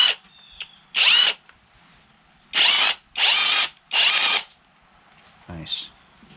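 Mensela 18V cordless lithium-ion impact wrench with a 1/2-inch drive running in reverse: several short bursts of high-pitched whirring and rapid hammering, each about half a second long, close and loud, separated by brief pauses.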